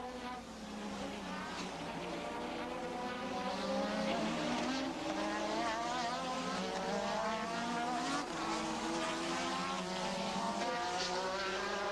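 1987 Formula 1 cars scream past at full speed, their high engine notes rising and falling in layered sweeps as several cars pass, loud and continuous over the whole stretch.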